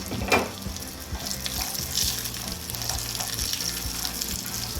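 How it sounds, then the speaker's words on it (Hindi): Nuts frying in a pan for Pakistani makhandi halwa give a steady, dense sizzle with small crackles and occasional light stirring scrapes, close and continuous, with no talking. "तो ये नट्स बहुत अच्छे से फ्राई हो रहे हैं"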